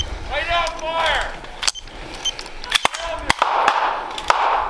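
Rifle blanks fire in scattered, sharp cracks during an army cold-weather combat exercise in the woods, mixed with shouted voices and crunching movement, some shots close and loud.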